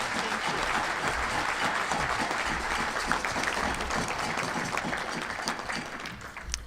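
Dense, sustained applause from a large, rowdy Rotary Club luncheon crowd greeting the University of Arizona president, steady and loud throughout with no break.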